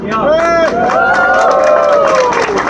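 A crowd at a candlelight vigil in Auckland cheers loudly and steadily, with rising and falling whoops and shouts blending into a continuous roar of voices.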